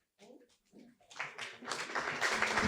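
Audience applause rising after a speech at a French forestry and landscape event, starting under a voice and swelling into steady, dense clapping by the end.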